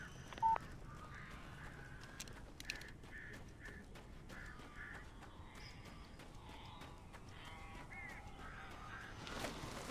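Crows caw faintly and intermittently in the video game Alan Wake, scattered short calls over a low, steady ambient background.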